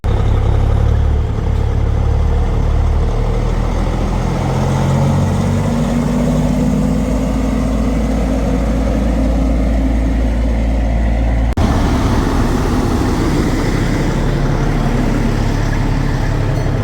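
A fully customized Peterbilt semi truck rumbles through its exhaust stacks in a parking lot, a loud, deep, continuous engine drone close by that holds steady with a slight shift in tone partway through.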